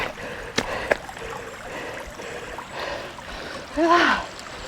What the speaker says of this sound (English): I can hear fast running water through the trees as well.